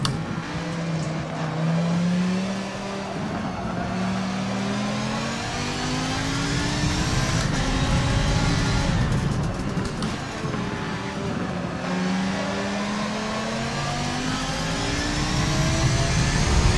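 Race car engine in Forza Motorsport 7 revving continuously, its pitch rising and falling through gear changes as it accelerates around a track, loud and steady throughout.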